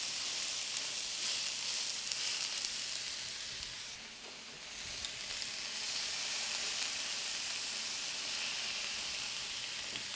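Meat searing in a hot pan at a cookery demonstration, a steady dense sizzle and crackle that runs continuously with a brief dip midway, close and fairly loud with no talk.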